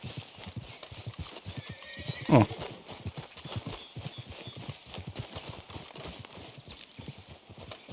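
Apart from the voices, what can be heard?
horse hooves and whinny in video game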